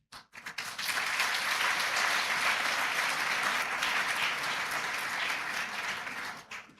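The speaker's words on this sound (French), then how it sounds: "je vous demande d'applaudir à l'honneur" An audience at a genocide memorial ceremony in Goma breaks into sustained applause, rising quickly to a dense, even clapping that holds for several seconds before tapering off.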